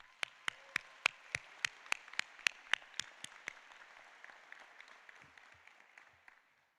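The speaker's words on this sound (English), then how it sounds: "Can we give them all a round of applause?" Commencement audience at a Seton Hall law school ceremony claps for the faculty, administrators and staff. About a dozen sharp, evenly spaced claps ring out close up over a softer crowd patter, which thins and fades out.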